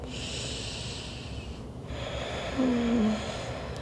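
A single nasal breath during a slow yoga pose, a soft snort-like exhale near the end over quiet room tone.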